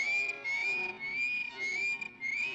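A person whistles a steady, sustained high tone that wavers and slides, with brief breaks between phrases, loud and close with no talking over it.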